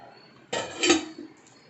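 Ground rice flour for murukku is tipped into a bowl: a short, soft scraping and clattering burst lasting about half a second, fairly quiet and close, then silence.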